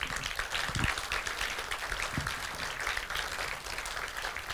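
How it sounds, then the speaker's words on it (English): A conference audience applauds after a technical presentation, a steady wash of many hands clapping, moderately loud, with a few louder claps near the front and no speech. "give him a warm applause"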